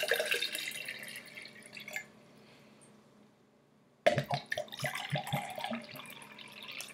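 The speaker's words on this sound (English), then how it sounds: "the water somehow gets sucked up there, and it sounds so funny" A fish-shaped gurgle jug pours water in bursts, producing close bubbly glugs and splashy gurgling with a short quiet pause between pours.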